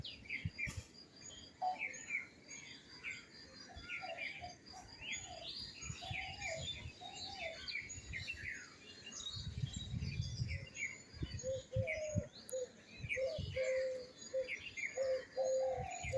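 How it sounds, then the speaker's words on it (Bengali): Many birds calling and cooing together on a rooftop in the morning, pigeon or dove coos among busy chirps and tweets, steady and fairly close with breezy outdoor background and no talking. "সকালবেলায় পাখিরা ডাকছে এত সুন্দর লাগছে"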